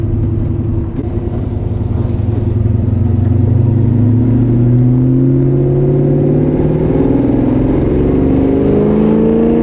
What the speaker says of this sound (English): You can feel the engine in this car.